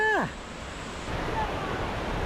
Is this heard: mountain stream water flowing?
yes